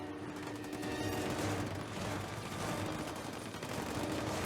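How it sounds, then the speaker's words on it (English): Sniper fire and battle noise in Halo Wars 2, a dense, steady wash of distant shots and combat sounds at low level. "There is a sniper picking off a little bit of the shield of the Spartan."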